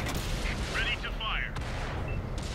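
A Tiger I tank in World of Tanks fires its cannon during battle, a deep booming shot amid rumbling engine noise, with short chirpy game interface sounds overhead and a voice talking nearby.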